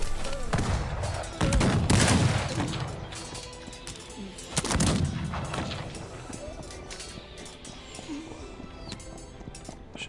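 Bursts of gunfire crack and rattle in a battle in the game Cossacks 3, two heavier volleys standing out over a busy, noisy background of clashing and scuffling.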